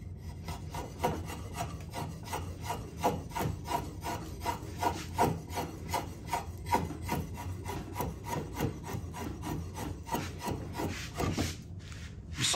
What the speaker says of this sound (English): You see how the cuts have a bit more of a scraping action and less of a slicing action?